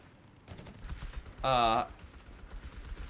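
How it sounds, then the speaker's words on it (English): Gunfire from a machine gun in the video game Company of Heroes 3, a single short burst of rapid shots standing out briefly over quieter battlefield background noise. "MG opening fire, hitting the Coastal Reserve"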